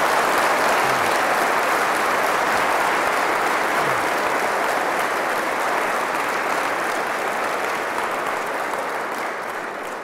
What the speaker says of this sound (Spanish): ¿Les parece si les damos un fuerte aplauso a todos los hermanos?